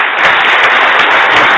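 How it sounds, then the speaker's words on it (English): A dense burst of audience applause at a cybersecurity competition awards ceremony, many hands clapping together loudly and continuously, with no voices on top. "a round of applause"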